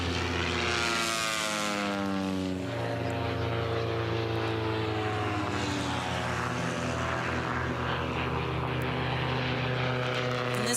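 Racing biplanes with propellers roar past at the Reno Air Races, a loud steady engine drone with a pitch that sweeps downward as an aircraft passes close by.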